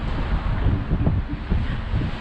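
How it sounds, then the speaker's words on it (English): Strong wind buffets an open Disney World Skyliner gondola high in the air, a loud, steady low roar of gusts rumbling against the microphone with no talking. "Oh, it is so windy. I can't believe how windy it is."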